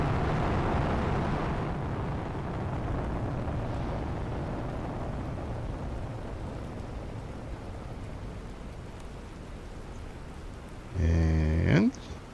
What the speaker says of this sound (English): nice rain going on